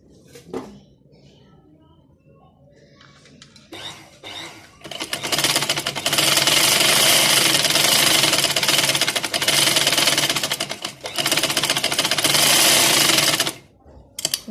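A sewing machine stitches trouser seams in loud, sustained runs with brief pauses between them, after a few seconds of quiet handling and light clatter.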